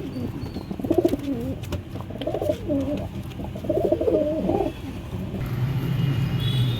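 Pet pigeons, including lombardi birds, give repeated throaty cooing phrases close by, rising and falling in short runs over a steady low background rumble.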